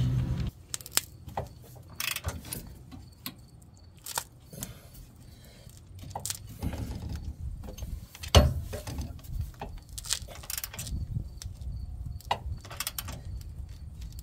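A hand ratchet turns a Torx bit while a lower control arm is installed on a Dodge Dakota. Quiet, close, irregular clicks and mechanical ticks come in short bursts, with a louder knock midway.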